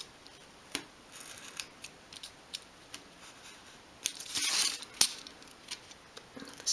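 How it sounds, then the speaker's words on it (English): Scissors make a run of crisp, close snips while a small piece is trimmed for a dolls house under-stairs cupboard. The cuts come in irregular single clicks, with a brief rustle of material in between. "Another snip down there should do it, like that."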